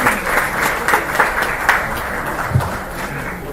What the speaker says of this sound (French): On peut applaudir pour lui.